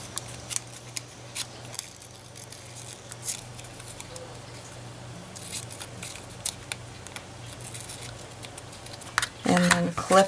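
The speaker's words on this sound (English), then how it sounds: "Turn the button over and trim somewhat of a circle around it." Small scissors snipping washi tape around a covered button, a string of faint crisp clicks scattered across quiet room tone, with a louder flurry of snips at the end.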